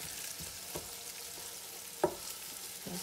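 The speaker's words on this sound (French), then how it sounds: "Ok, on va caraméliser un tout petit peu. Voilà, on peut sentir l'odeur des oignons" Onions caramelize in a pan for a lobster sauté with a steady, close sizzle and a few sharp clicks of a utensil stirring them.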